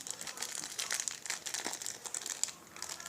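Crinkly plastic toy packaging is pulled and worked open, a continuous close crackling and rustling at low level.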